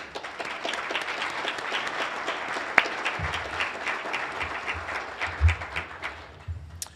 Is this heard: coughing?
no